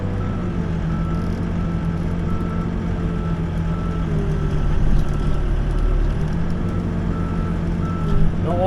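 A backhoe reversing while digging footings with piers, its diesel engine rumbling steadily close by under a continuous high reversing tone, a couple of louder engine surges, no talking.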